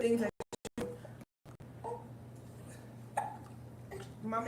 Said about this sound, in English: She has hiccups.